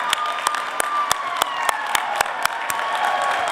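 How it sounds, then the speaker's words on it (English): A crowd at a political conference dinner claps continuously, with sharp individual claps standing out over a bright, sustained wash of applause. "We applaud you."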